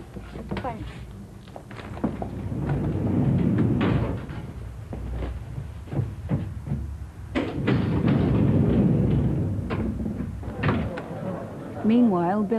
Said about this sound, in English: Hang on, I'll open the door for you.